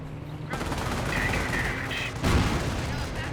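Panther tank main-gun fire and combat from Company of Heroes 1, a World War II strategy game: a steady din of gunshots and bursts, with a heavier booming impact near the end.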